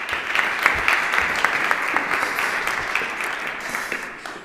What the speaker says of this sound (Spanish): le recibimos también con un fuerte aplauso